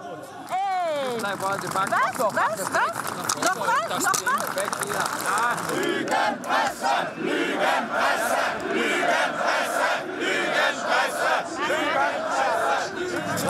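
A hostile crowd of Pegida demonstrators in Germany shouting and jeering, with loud overlapping angry cries and chants at close range, plus shorter chanted bursts and scattered voices talking.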